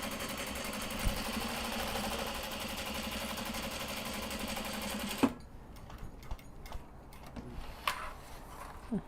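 A sewing machine runs a steady, continuous stitch for about five seconds, then stops, leaving only faint handling clicks and small bumps of fabric and table noise.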